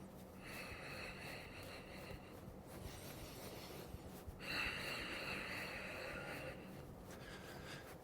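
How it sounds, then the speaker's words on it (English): Forceful, rhythmic breathing during a kundalini kriya, with long hissing breaths and snorting pulses repeating steadily through a quiet room at moderate loudness, with no talking. "Breathing."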